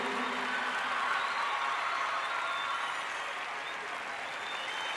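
Large concert crowd applauding at the Palapartenope arena in Naples, a dense, steady wash of clapping that stays loud and continuous throughout, with faint voices mixed into the crowd noise.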